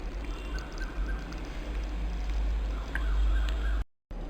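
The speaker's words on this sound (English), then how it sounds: "Now add some water to the tamarind to make tamarind puree." Water poured onto tamarind to make a puree for a sweet and sour green chilli pickle, a steady soft splashing wash that runs for about four seconds before cutting off abruptly near the end.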